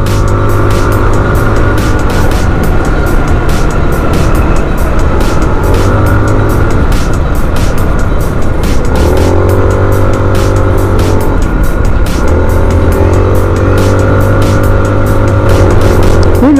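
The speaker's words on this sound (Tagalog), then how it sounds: "lakas ng Adventure X sa ahon, ha?" A Rusi Adventure X 150i motorcycle engine pulls hard up a provincial uphill road, its loud, steady drone rising and dipping in pitch as the rider shifts and throttles, close and continuous with wind noise.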